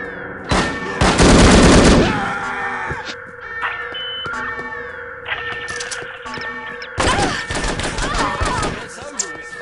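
Gunfire in the PC spy shooter The Operative: No One Lives Forever, loud bursts of rapid shots at the start and again near the end, with single shots, electronic tones and game sounds in between.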